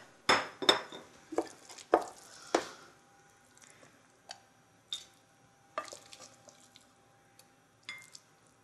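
Thick spelt porridge made with coconut milk is spooned into a bowl, a run of close metallic clinks and scrapes of spoon on pot and dish, several sharp hits early then sparser, quieter taps with soft wet squishes.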